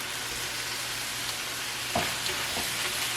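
Cut-up beef steak pieces frying in a pan, a steady close sizzle throughout with a couple of brief louder crackles and pops partway through.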